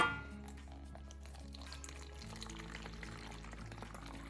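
Homemade four-pepper hot sauce poured through a small funnel into a bottle, a soft, steady trickle close by under a low background hum, with no talking.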